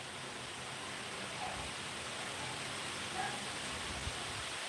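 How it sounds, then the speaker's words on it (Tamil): Rain falls in strong wind, a faint, steady hiss that stays even throughout, with no voices. "மழை பெய்யுது."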